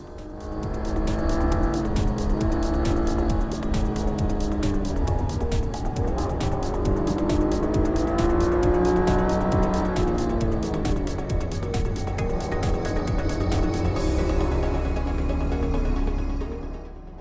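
A 2013 Cadillac ATS Performance Package drives hard, its engine note rising and falling through gear changes, loud and steady for the whole stretch, with a rhythmic ticking running throughout and no one talking.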